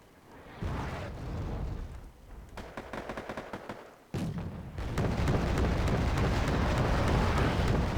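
Artillery fire in the Wargame: AirLand Battle video game booms out as dense, rumbling explosions, joined by rapid crackling gunfire; several heavy blasts land in sequence, the loudest and most continuous barrage filling the last few seconds.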